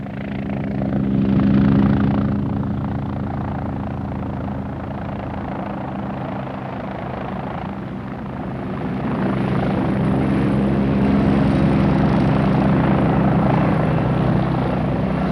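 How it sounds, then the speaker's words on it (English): An army helicopter swoops low over a border village road in Ulster in 1974, its rotor throbbing loud and continuous, swelling and easing as it passes close overhead. "the army uses helicopters to swoop down on any suspicious vehicle"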